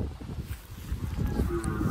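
A cow on a farm lets out a low, drawn-out moo close by, with a second lowing call and faint background noise around it and no speech.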